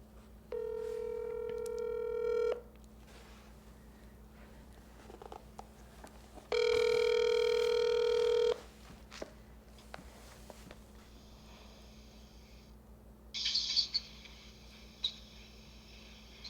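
Electronic telephone tones: a steady beep, a pause, a longer tone, then scattered short keypad-like chirps over quiet line hiss.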